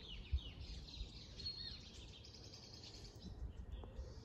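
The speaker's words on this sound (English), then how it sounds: "listening to the birds" Small birds in Mexico chirp and sing in scattered high tweets over a soft outdoor background, fairly distant, with no talking.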